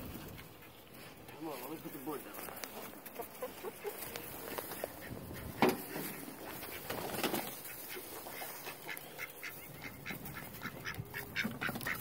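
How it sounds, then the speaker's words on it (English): Ducks quack repeatedly as they leave their coop at morning release, a busy chorus of close calls alongside other backyard poultry, with a person talking now and then. "Hear the ducks going."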